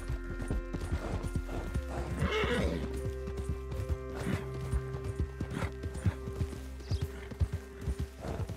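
In the video game Red Dead Redemption, hooves clatter in a steady galloping rhythm while a horse whinnies, with creaking and mechanical noises in the background.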